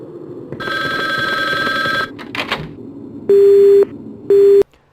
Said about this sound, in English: The phone hang up.